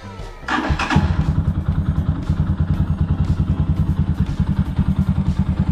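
A Rusi Classic 250 motorcycle with a custom ignition switch cranks and fires up, then settles into a close, loud, steady thumping single-cylinder idle with an even rhythmic pulse.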